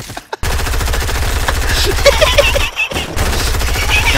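A submachine gun fires in a video game buildfight match: rapid, evenly spaced shots in long bursts, close and loud, with a short pause near the middle before firing resumes.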